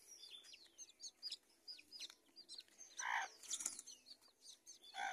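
Chickens and young chicks on a Brazilian home farm, heard as a busy mix of chirps and clucks with a loud burst of wing flapping in the middle and another at the end, close and continuous.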